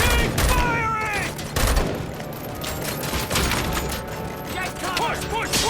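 Dense, continuous gunfire in the video game RoboCop: Rogue City during a bank heist shootout, rapid shots and booms layered under shouting voices and music.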